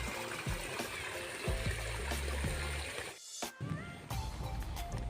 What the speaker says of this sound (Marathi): इकडे जोरदार पाऊस चालू आहे